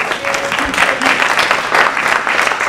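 Applause from an audience at a community literary gathering, a dense steady patter of many hands clapping close by, with a brief voice or tone rising faintly beneath it.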